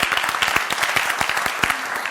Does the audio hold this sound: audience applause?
yes